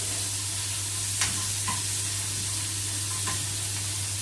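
Garlic sautéing in hot oil gives off a steady, close sizzle, with a few brief spoon scrapes against the pan and a faint low hum running underneath.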